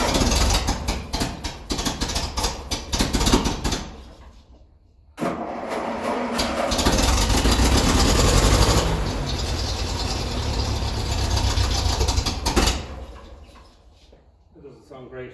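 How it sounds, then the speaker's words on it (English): A 1957 Ferguson 35 tractor with a TVO engine, running on petrol with the choke on, turns over and catches, then runs loud and rough with an uneven, choked idle and a brief drop-out near the start. "It doesn't sound great at all. It sounds very choked."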